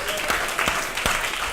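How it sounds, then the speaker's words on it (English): Brief applause from a live audience at an interactive VR game show, with a handful of sharp, close claps over a murmuring room for just over a second. "Everybody, round of applause for Ishraki."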